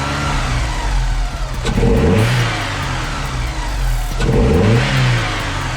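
A Porsche 944 engine with the air box removed and an open air filter revs up twice with a throaty, close intake roar, rising and falling over a steady idle rumble.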